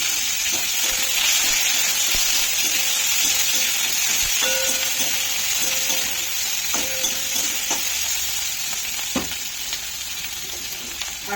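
Chopped onion, garlic and chili sizzle loudly with whole cumin in hot oil, a steady dense frying hiss with occasional stirring clinks throughout.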